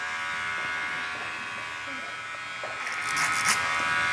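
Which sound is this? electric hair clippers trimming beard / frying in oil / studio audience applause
electric hair clippers trimming beard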